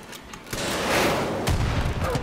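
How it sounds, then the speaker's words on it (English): Gunfire in Far Cry 5 as a rock is shot, loud close shots and a burst of rapid fire with booming impacts, one sharp report near the start and another heavy hit later. "Why are you shooting a rock?"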